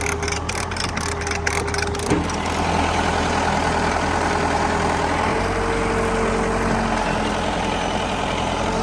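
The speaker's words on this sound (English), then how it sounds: "He's trying to push it up with the backhoe, but it's pretty stuck." A Case 580B backhoe's diesel engine rumbles steadily nearby while pushing against a stuck load, a low continuous drone with a brief clattering patch early on and no voices.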